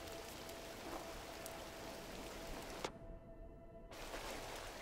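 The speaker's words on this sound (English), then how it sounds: "Rain at night against your window is the best." Steady night rain in the video game GRIS, a continuous dense patter like drops on a window, cutting out abruptly into near silence for about a second before returning at the same level.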